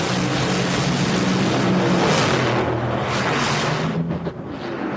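A drag race car roars down the track at an IHRA event in Edmonton, its loud engine blaring continuously before wavering and fading near the end as it gives up.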